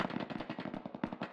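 Rapid automatic gunfire from the video game Ring of Elysium, a quick, even burst of roughly a dozen shots, moderately loud and a little distant, with no talk over it.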